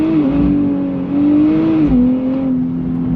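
A 2024 Nissan Z NISMO sports car engine drones loudly and steadily as it pulls under throttle in first gear, its pitch wavering and climbing slightly, close by with no talking.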